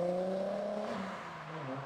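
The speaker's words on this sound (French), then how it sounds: "un 6 cylindres diesel, j'étais surpris comment ça sonne bien en fait" A six-cylinder diesel car engine hums and revs steadily at a moderate distance, the pitch rising then settling, with no voices over it.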